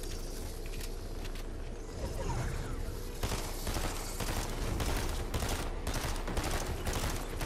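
Rapid gunfire in a multiplayer shooter video game, with dense bursts of automatic and repeated shots crackling continuously and growing heavier midway, loud and close with no speech over it.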